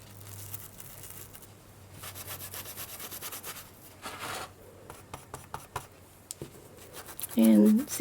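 A brush scrubbing chalk onto a dried piece of glue clay, soft close rubbing and scratchy strokes in short repeated bursts, with a voice speaking over them.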